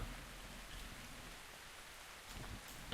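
Steady rain falls in a video game, a soft, even hiss of drops on surfaces that stays faint throughout and ends with a brief louder rustle.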